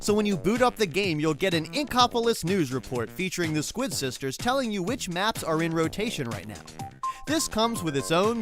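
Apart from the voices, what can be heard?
No everyday noises stand out.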